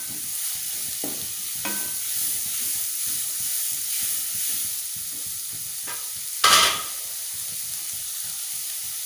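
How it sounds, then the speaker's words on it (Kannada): Onions fry in a pan while being stirred for a butter chicken dish, producing a continuous close sizzle with scattered scraping strokes and one louder sharp clatter near the end; no one speaks. "ನೀರುಳ್ಳಿ ಫ್ರೈ ಆಗೋದು."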